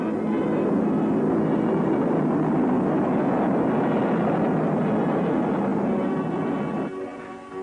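A B-36 intercontinental bomber drones overhead in a steady, broad roar of piston engines that holds loud and constant for several seconds, then eases away near the end.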